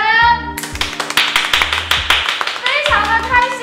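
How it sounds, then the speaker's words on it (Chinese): Applause from a studio audience at a live TV shopping broadcast promoting LG LCD televisions, with brisk clapping over music and a host's voice throughout. "掌声！"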